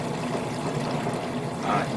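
Water poured into water-based paint to thin it, a soft, close, continuous trickle and pour that swells slightly near the end.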